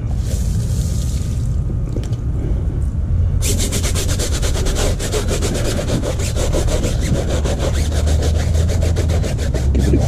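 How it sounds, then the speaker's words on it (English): A stiff tire brush scrubs a dirty car tire, loud and close, a rough rubbing at first that turns into rapid, rhythmic back-and-forth strokes for the rest of the scrub, with no voices. "Give it a good scrub down."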